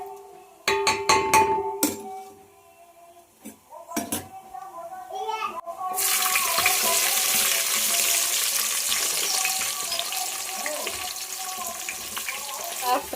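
Whole spices and onions frying in oil in a home kitchen, a steady loud sizzle swelling up after clinks and utensil knocks, with a voice and occasional talk over it.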